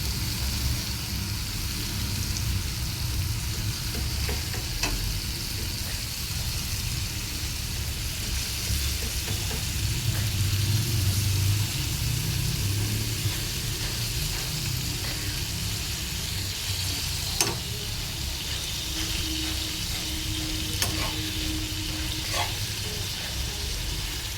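Whole lote fish going into spiced masala of chilli powder, turmeric and salt frying in a pan, a steady broadband sizzle with low rumbling underneath and occasional stirring clinks, fairly close and continuous.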